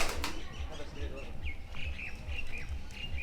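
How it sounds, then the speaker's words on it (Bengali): Pigeons flap their wings in repeated soft bursts, with scattered chirps and coos nearby and faint voices in the distance. "এখানে কিন্তু অনেক কবিতর আছে বিদেশি পায়রা"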